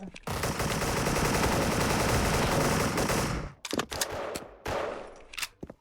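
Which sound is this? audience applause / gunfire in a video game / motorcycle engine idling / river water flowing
gunfire in a video game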